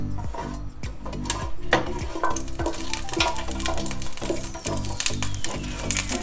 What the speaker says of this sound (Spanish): La vamos a freír con una cucharada de aceite de oliva